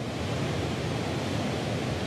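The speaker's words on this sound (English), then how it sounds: "It's here that the longest waterfall in Southeast Asia, which in full flood is 14 kilometres wide, spills over the border into Cambodia" Mekong River waterfall in Laos near the Cambodian border, the longest in Southeast Asia, heard as a dense, steady roar of rushing water filling the whole scene, broadband and unbroken.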